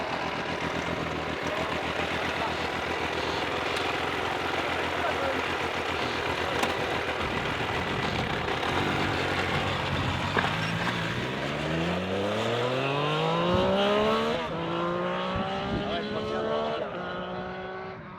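A three-cylinder motorcycle engine drones steadily, then revs upward in rising pitch sweeps, loud and close, with voices talking over it.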